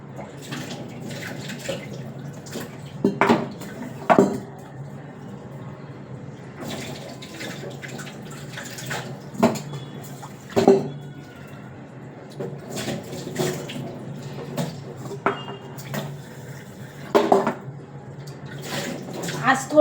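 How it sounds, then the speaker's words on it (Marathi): Water runs from a kitchen tap in a steady stream while dishes are scrubbed and rice rinsed; dishes clatter and scrape now and then, with occasional voices in the background. "भांडी आहे ती घासून घेते"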